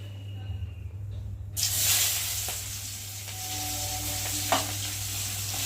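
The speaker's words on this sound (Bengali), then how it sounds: "পেঁয়াজটা একটু ভালো করে ভেজে নেব।" Onions drop into hot oil already used for frying fish and burst into a loud sizzle, followed by steady frying with a few scraping stirs and a sharp clack near the end.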